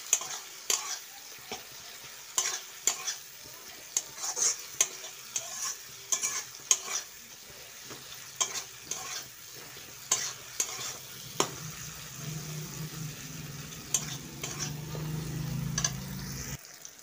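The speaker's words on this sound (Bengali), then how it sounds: "এখন আমি মশলাটা একটু কষিয়ে নেব" Spice paste with ginger and garlic frying in oil, stirred steadily with a spoon, giving a low continuous sizzle and regular close scraping taps, the sizzle growing fuller near the end.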